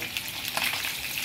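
Fresh danggit fish fry in hot oil with a dense, steady sizzle and crackle close up, continuous and even throughout the short stretch.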